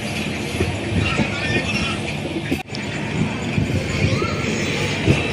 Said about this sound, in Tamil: ஏதோ ஒரு குட்ஸ் ட்ரெயின் ஒன்று வந்துட்டு இருக்குது